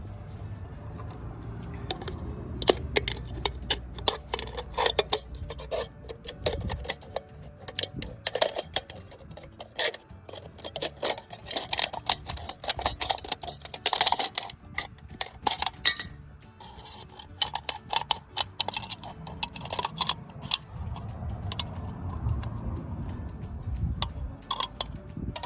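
A sharp metal can is snipped by hand to make tree tags, producing irregular bursts of crisp metallic clicks and crinkles over about twenty-five seconds, close up with scraping and handling noise between cuts and no speech.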